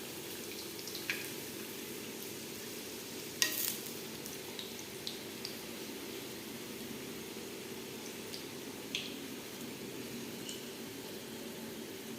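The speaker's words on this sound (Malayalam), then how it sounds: "തിരിച്ച് മറിച്ചൊക്കെ ഇട്ട് ഇത് വറുത്തെടുക്കാം കേട്ടോ" Momos fry in hot oil with a steady, close sizzle throughout, broken by a few sharp clinks and pops from utensils.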